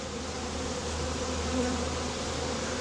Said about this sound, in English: now we've got our bees properly shaken inside there